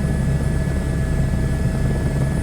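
A helicopter in flight on a scenic ride through the Lahaul and Spiti valleys, heard from inside as a loud, constant drone with rhythmic rotor thumping and a steady engine whine.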